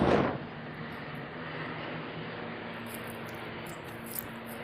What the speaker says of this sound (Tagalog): Palagpasin muna natin yung eroplano, maingay.